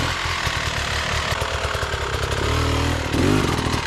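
A loud enduro motorcycle engine revs hard and continuously while climbing a rocky section, the note rising and surging near the end, close and with no voices.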